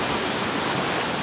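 Sea waves washing against a seawall along a coastline, a dense continuous roar of surf with wind noise, loud and close.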